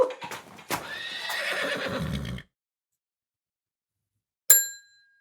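A donkey brays loudly and alone for about two seconds in a long harsh call, followed by silence and then a brief bright bell-like ding near the end.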